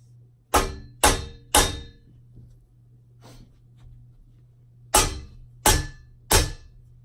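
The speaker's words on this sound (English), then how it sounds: "So I'm just gonna hammer it one more time." Six sharp hammer blows on a metal mattress foundation ring out close by, three in quick succession, a pause, then three more, over a low steady hum.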